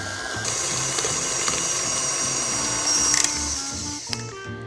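A stand mixer whips Plugra European butter until light and fluffy, a steady close motor whine with a constant high tone running the whole time, a few brief clicks near the end, no talking.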